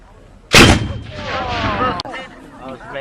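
A WW2 re-enactment gun fires a single loud, close bang that rolls into a long booming echo, with voices talking faintly afterward.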